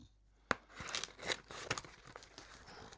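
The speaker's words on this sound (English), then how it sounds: "Right, let's get these scissors." Scissors cut through packaging on a collector's game item, a series of sharp snips followed by crinkling, tearing rustles, close and fairly quiet.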